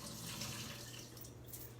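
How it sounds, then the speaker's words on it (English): Soaking water drains off dates, a faint, steady trickle and splash of liquid pouring out for a couple of seconds in a quiet kitchen. "I'm gonna go ahead and drain the water off of these"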